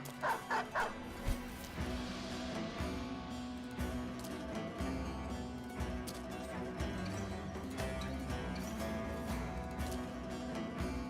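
In the video game Battle Brothers, dogs bark in a quick burst of several sharp yips at the start, then further barks and scuffles sit under steady game music and effects.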